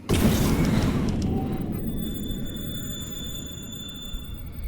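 A tremor in the video game Alan Wake: a heavy low rumble bursts in at the start and keeps rolling under faint high ringing tones, slowly easing off.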